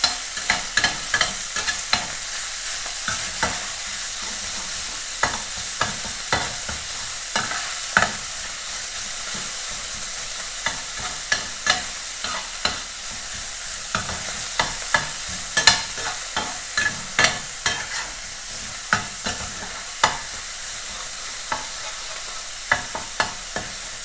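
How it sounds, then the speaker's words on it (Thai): Continuous loud sizzling in a hot pan with frequent scraping, clacking spatula strokes as minced pork is stir-fried with garlic, no voices. "ใส่หมูสับลงไปผัด หมูให้สุกก่อนค่ะ"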